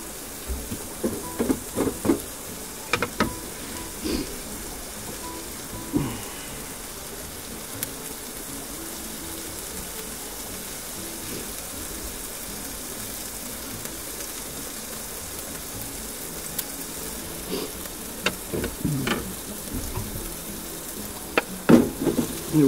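Corned beef hash sizzling and frying in a pan inside a campervan on a cold day, a steady close crackle running throughout with occasional louder pops and stirring clinks.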